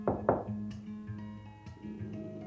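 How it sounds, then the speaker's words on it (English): A couple of sharp knocks on a door right at the start, close and distinct, followed by quieter background tones. "until you hear a knock."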